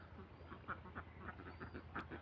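Egg-laying ducks, about 180 of them, kept in a closed duck enclosure, giving scattered quacks over a low steady background hum, faint and somewhat distant, with no voices.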